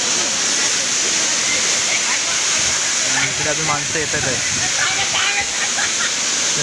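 Scenic waterfall at Chandranagar near Dapoli in the Konkan, a constant loud roar of falling water close by, with someone talking and other people's voices heard over the rush.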